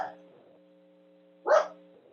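A single loud dog bark breaks through a quiet Zoom meeting, a short sharp burst over a faint electronic hum with a little muffled talk near the start.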